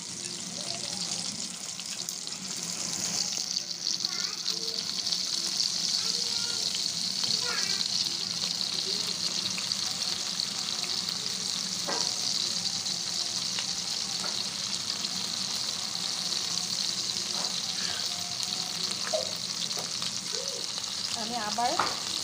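BBQ chicken kebab frying in a pan on a stove, a steady close sizzle with occasional crackles and stirring scrapes, joined by faint talk and some running water.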